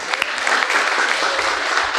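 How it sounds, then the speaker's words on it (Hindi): A short burst of audience applause at a spiritual talk, dense clapping from a roomful of listeners, fairly close and loud, lasting about two seconds. "उनको भी ताली बजाए"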